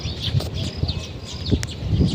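Brief, high chirps from a sparrow pecking at grain come through over a low rumble of background noise and some murmuring voices.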